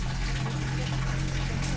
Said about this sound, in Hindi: आप सुन सकते हो वहाँ से पानी